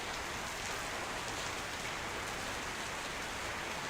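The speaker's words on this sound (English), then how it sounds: "listen to the raindrops here, guys" Rain pattering on an airliner in X-Plane 12, a Toliss A321Neo, producing a dense, even hiss of raindrops that stays steady and loud throughout without any voices.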